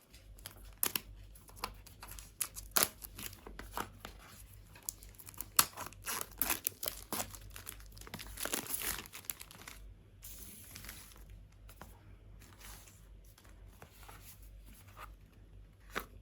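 Opening the packaging of a DJI Pocket 2 camera: quiet, close crinkling, tearing and rustling of plastic and cardboard in irregular bursts, with a few sharper crackles, no talk.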